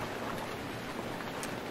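Rain falls in the survival video game Stranded Deep as a soft, steady hiss that stays faint and even throughout, with no voices over it.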